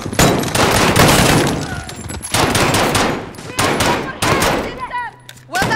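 Gunfire in Call of Duty: Modern Warfare, with AK rifle and pistol shots in rapid automatic bursts and sharp single cracks. The shooting comes loud and close, with brief pauses, and voices are heard among the shots.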